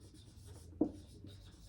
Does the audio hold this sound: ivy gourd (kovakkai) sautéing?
no